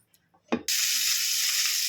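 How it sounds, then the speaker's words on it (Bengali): Cauliflower dropped into hot white oil in a kadai, a quick thud and then an immediate loud, steady frying sizzle, close up with no voices. "এখানে আমি ফুলকপিটা ভেজে নিচ্ছি"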